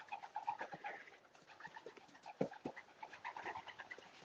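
A young racing pigeon handled at a one-loft race check-in, with soft close cooing and fluttering rustles amid faint background bustle.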